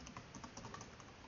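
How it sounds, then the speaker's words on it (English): Soft, quick keystrokes tap on a computer keyboard as a command is typed, faint and steady with no talking. "So we type Apscale installer,"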